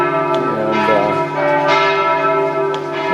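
Church bells ring at noon at the castle church in Wittenberg, rich overlapping tolls sustaining loudly with long ringing overtones, one strike blending into the next.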